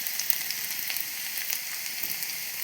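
Chopped green chillies sizzle and crackle as they are stirred and fried in a pan over lowered gas flame, a steady close hiss with small pops throughout.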